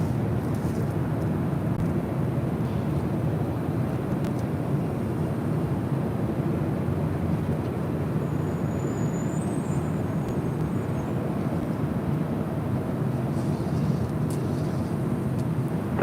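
A Delta Airlines Boeing 767-300ER takes off from LAX bound for Honolulu, heard as a steady distant low jet roar that holds evenly throughout with a faint high whine above it.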